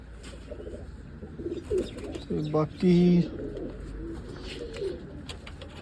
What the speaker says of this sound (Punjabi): ਹੁਣ ਇਹਨਾਂ ਨੂੰ ਦਾਣੇ ਕਬੂਤਰਾਂ ਨੂੰ